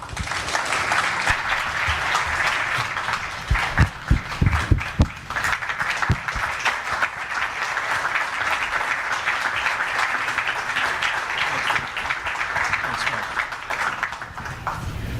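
Sustained applause from a large audience at a CEO town hall welcoming Vice President Mike Pence, steady and full for about fifteen seconds with a few sharper claps standing out partway through.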